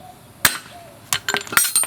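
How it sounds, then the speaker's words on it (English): A hammer strikes a socket set in a car's front wheel bearing hub, driving the axle out over an anvil: a few sharp metallic clinks, one isolated hit then a quick cluster of blows, close and loud. "Then you put a socket in the hole and hammer it out"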